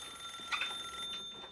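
A telephone rings once, a short electronic bell burst at moderate level over a quiet, humming background in a TV drama scene.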